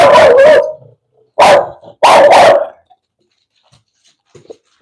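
A dog, a female, lets out three loud, close barks in quick bursts, then the room falls quiet with only faint rustling. No one speaks.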